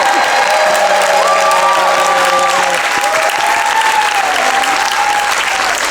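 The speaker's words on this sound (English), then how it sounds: "Enormous applause" Enormous audience applause at a comedy and improv show aboard the JoCo Cruise, loud, steady and close, with some cheering and whistles woven through.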